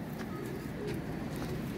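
Soft, low pigeon coos murmur over a noisy background, brief and fairly quiet.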